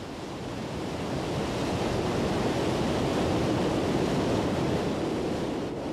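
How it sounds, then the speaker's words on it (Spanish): Water from a river in the Salzach valley plunging down three successive waterfalls and crashing 380 metres below, a steady, dense roar of broadband rushing noise that holds for the whole stretch, loud and continuous with no voice. "El agua se precipita a través de 3 cascadas, una a continuación de la otra, y se estrella 380 metros más abajo"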